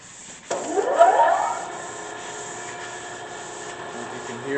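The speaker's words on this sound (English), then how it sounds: "This is our 16-inch Max disc sander." A 16-inch Max disc sander with a motor starter switches on with a sudden rising whir, then settles into a quiet, steady running hum.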